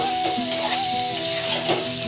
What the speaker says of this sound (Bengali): তো ভালো করে আমি একটু কষে নিই